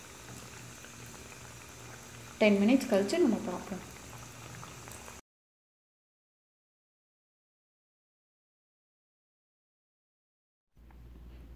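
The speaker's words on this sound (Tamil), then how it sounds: "இன்னும் ஒரு 10 மினிட்ஸாவது நல்லா சிம்மிலே கொதிக்கட்டுங்க." Dry fish (karuvadu) curry gravy simmering on low heat gives a soft, steady bubbling hiss. A voice speaks briefly over it, then the sound cuts to silence before faint noise returns at the end.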